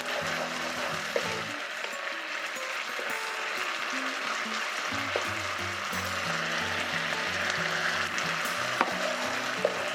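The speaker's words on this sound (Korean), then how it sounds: "이제 만들어놨던 전분물을 이용해 농도를 맞춰주도록 하겠습니다." Starch water stirred into simmering sauce in a wok to thicken it, a continuous close sizzle and bubbling with occasional utensil clicks, over background music, while shredded pork in Beijing sauce is prepared for a Chinese cooking exam.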